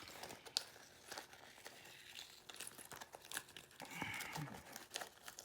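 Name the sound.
peeling tape off vinyl bag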